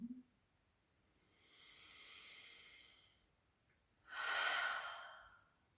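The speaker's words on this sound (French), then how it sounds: "Pour le moment, prenez une profonde respiration." Two slow, deep breaths during a relaxation session, a soft airy inhale followed after a pause by a louder, fuller exhale, close and quiet with no talking.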